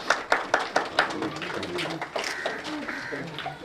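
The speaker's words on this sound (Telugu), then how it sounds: "అందరూ చప్పట్లు కొడదాం" A group at a church meeting clapping hands, a series of sharp, rhythmic claps from several people nearby, with voices starting to sing over the later claps.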